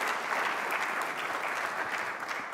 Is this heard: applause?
yes